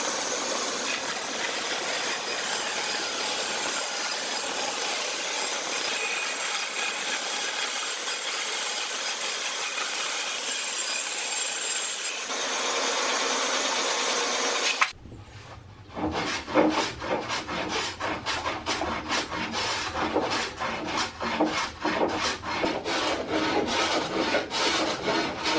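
A bandsaw cuts a wooden board for boatbuilding garboards with a loud, steady rasping whir. Partway through, the sound drops out briefly, then comes back as a rhythmic, gritty rubbing that grows closer and rougher.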